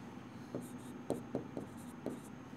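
Pen or pencil writing on paper while ranks are jotted down during a puzzle lesson, a few soft scratchy strokes and taps, close but faint, over a quiet room hum.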